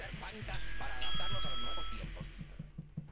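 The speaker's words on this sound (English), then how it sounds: "We can ring the doorbell, then run." A doorbell chimes inside the Hello Neighbor video game, with bright sustained bell tones ringing over about a second and a half and then fading. Low footstep-like thuds and other game sounds continue around it.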